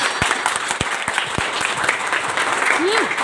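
Loud, dense applause from a meeting crowd in Ahmedabad, continuous clapping with sharp individual claps up front and a brief voice near the end.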